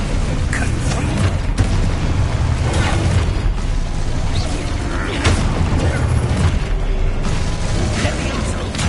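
Confringo blasting spells go off in Hogwarts Legacy, a dense run of loud booming explosions and crackling bursts packed together with no pauses.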